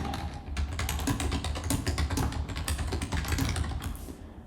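Rapid, dense typing on a computer keyboard, a steady stream of close key clicks and taps with no pauses and no voices.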